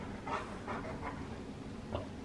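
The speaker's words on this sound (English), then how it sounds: "That dog's going crazy." A dog worked up over a squeaky toy whimpers and pants in short, breathy bursts with thin high whines, fairly close, against steady room noise and no talk.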